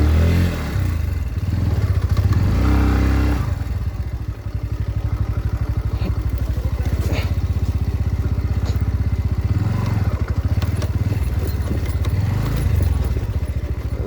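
A motorcycle engine runs steadily with a low, throbbing rumble and some rattling clatter, close and loud throughout, with slight changes in intensity while riding from Kathmandu toward Dhap Dam.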